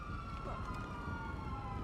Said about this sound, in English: Whose sirens are on? Is it mine?